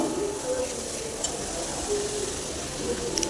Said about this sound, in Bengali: আর আমি খুব সুন্দর করে মশলাটাকে এখানে কষিয়ে নিব ভালো করে